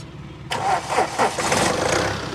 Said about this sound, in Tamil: அப்படியே இன்ஜினோட நாய்ஸும் லைவாக கேட்டுடலாம் ஸ்டார்ட் பண்ணுங்கள்